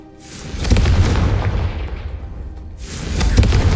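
The Confringo blasting spell in Hogwarts Legacy lets off a deep rumbling explosion that swells and fades. A second heavy boom rises at the end.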